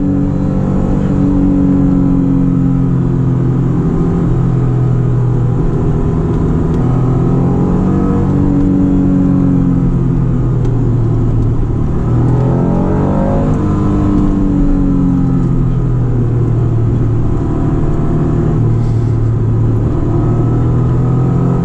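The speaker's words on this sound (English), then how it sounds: "When you ring this car out, you think you're Senna, going up and down through the gears" Close, loud Acura NSX sports car engine climbing and dropping in pitch repeatedly as it shifts up and down through the gears, with a steady rumbling drone.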